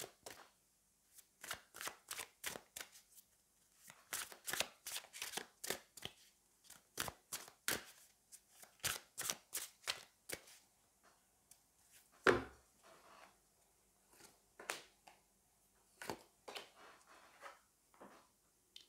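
Tarot cards shuffled in quick, crisp bursts of riffling slaps, close and clear in a quiet room, with a few pauses between runs as cards are drawn.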